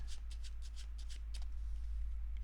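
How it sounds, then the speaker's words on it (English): A deck of playing cards is shuffled during a card magic routine, giving a quick series of crisp riffling bursts, close and clear over a quiet low hum, with no talking. "Shuffling the cards."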